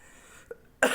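A single sharp, loud cough bursts out near the end, preceded by a faint throat sound, from a person in an otherwise quiet room during an accounting lesson.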